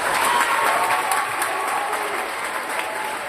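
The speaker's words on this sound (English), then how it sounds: "Give him a round of applause." Audience at a spring school band concert clapping, a dense, steady burst of applause close by that continues throughout, with a few cheers mixed in.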